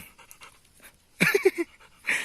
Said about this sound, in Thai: เจ้าขอนมาหอนครับ